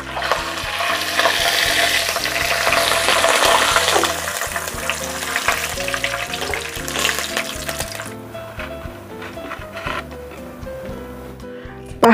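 Small anchovies fry in oil until dry, with a loud, crackling sizzle and occasional stirring scrapes up close; the hiss eases and quietens toward the end.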